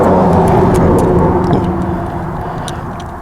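A steady, loud motor rumble of a car going by close on a street outside a garage, fading slightly toward the end, with no voices.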